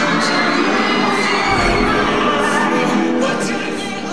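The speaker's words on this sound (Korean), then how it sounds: "어찌나 함성 소리가 컸던지 신영 씨도 깜놀." Loud, dense roar of fans cheering and shrieking at a live K-pop music show broadcast as a group takes the stage, a sustained wall of crowd noise for the whole stretch with no talking over it.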